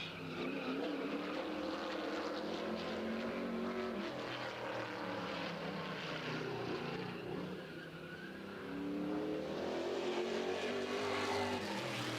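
Ford Mustang race car with a new five-star body, number 26, out on the track during qualifying at Madera Speedway, a steady loud engine roar that rises and falls as the car circulates, with tire skids and no talk.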